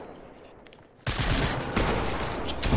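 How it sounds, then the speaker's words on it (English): Automatic gunfire in the video game Fortnite starts abruptly after a quieter moment and keeps up as a dense, loud rattle of shots to the end. "Give him cover fire, Kyle."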